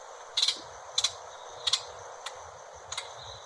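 Five short, sharp high-pitched hooded oriole call notes spaced about half a second apart, faint against a soft outdoor hiss.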